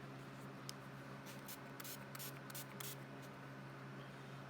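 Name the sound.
spray bottle of dark blue paint and water sprayed over stencil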